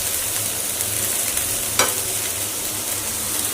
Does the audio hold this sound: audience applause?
no